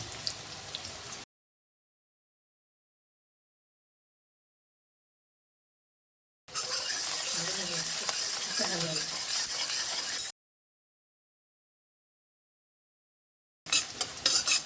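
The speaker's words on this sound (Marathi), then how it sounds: "कांदा टाका तुम्ही. पहिले चांगलं फ्राय होऊन देऊ." Onion frying for Hakka noodles crackles and sizzles in a pan with stirring scrapes, heard in two separate stretches broken by long silent gaps, with no talk.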